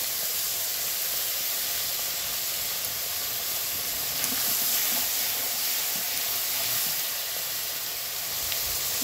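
A steady, loud, unbroken sizzle as black cumin and a ground paste of mustard, cumin, garlic and green chili hit hot oil, a dense hiss that holds evenly throughout with no voices.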